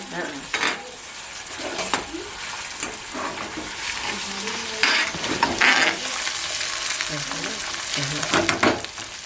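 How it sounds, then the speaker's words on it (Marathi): Chopped tomato stir-fries with onion in a pan for a Konkan wild-vegetable dish, a loud steady sizzle with a spatula scraping and stirring at close range. "ओके टोमॅटो पण घ्यायचा चांगला ना मस्त एकदम परतवून"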